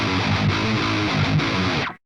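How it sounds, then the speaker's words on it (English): A heavily distorted electric guitar plays a short metalcore riff ending in a hammer-on, a dense, loud and sustained tone that cuts off abruptly after about two seconds. "I do this little hammer-on thing that sounds like this."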